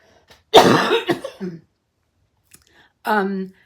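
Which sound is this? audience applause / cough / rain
cough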